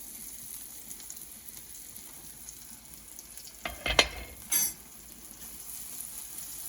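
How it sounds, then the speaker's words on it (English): Oil in a pan over medium heat gives a low, steady sizzle throughout, with a few brief clinks and a scrape partway through. No voices are heard. "This is going to sizzle right away."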